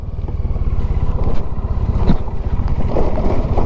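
Three motorbikes ride through dense forest with no road, their engines throbbing in a steady low pulse close by, mixed with rough wind buffeting.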